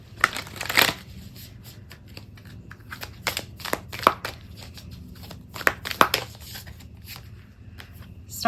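A deck of Work Your Light oracle cards is shuffled by hand in bursts of crisp riffling and slapping, close up and uneven, with quiet gaps between.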